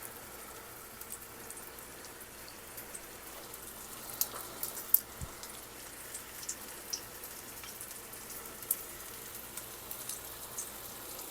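Pork sears in an Instant Pot with seasonings, a soft, steady crackling sizzle with scattered faint pops, heard alone without talk.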